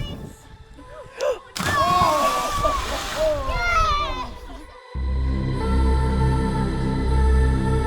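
Swimmers plunge into cold lake water, a sharp splash landing amid excited voices and shouts, followed by a steady droning hum as the talk fades.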